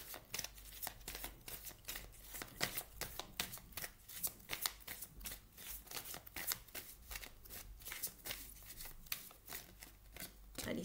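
Tarot cards are shuffled by hand in a steady run of quick riffling flutters and soft slaps, close and fairly quiet, continuing without pause and without speech.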